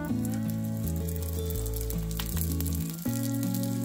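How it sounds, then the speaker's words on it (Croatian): Flatbreads frying in hot oil at medium heat, a continuous bubbling sizzle under a loud background of steady music-like tones, close and without talk. "Zagrijte ulje i pripremljene lepinice pecite na srednjoj temperaturi."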